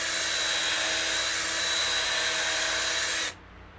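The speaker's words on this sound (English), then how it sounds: "just keep reaming on it until you get it to the size where you can use that bigger reamer" A power reamer grinds into a fishing rod blank in one steady, loud, high whine that holds for about three seconds, then cuts off abruptly into quiet.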